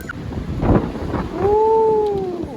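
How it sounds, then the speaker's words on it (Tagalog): Gusty wind rumbles and buffets close by, with a low droning whine rising and holding near the end. "Grabe ang hangin."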